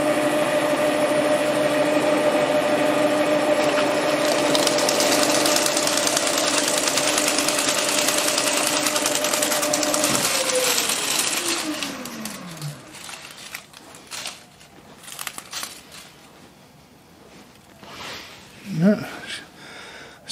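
A sharp milling cutter machining a rack for ER40 collets under an aggressive feed, a loud steady whining grind with strong tonal hum that holds, then winds down with a falling pitch and leaves scattered clatter and faint sounds.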